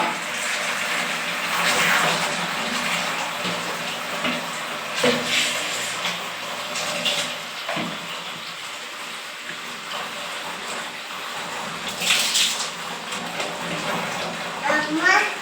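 A small child is bathed while water splashes and pours steadily nearby, with an adult and someone talking over the sloshing throughout.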